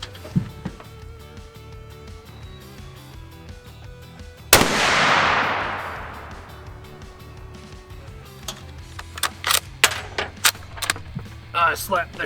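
A single loud deer rifle shot fired at a 50-yard target, a sharp crack with a long decaying roar, followed by mechanical clicks and handling noises outdoors.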